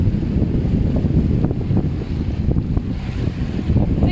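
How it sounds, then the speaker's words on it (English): Canoe out on big waves on the River Spey, with steady wind buffeting the microphone and water churning and splashing throughout, loud and close. "Big waves."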